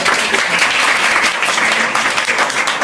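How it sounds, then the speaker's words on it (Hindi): An audience at a Teachers' Day celebration in a computer class applauds loudly, dense continuous clapping from many people filling the whole moment. "इनके लिए भी एक बार जोरदार ताली बजाते हैं"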